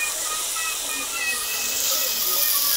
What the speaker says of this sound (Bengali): আর তারপরে আমি দেখো মাংসটা কষাতে বসিয়েছি।